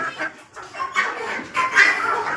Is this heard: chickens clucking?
yes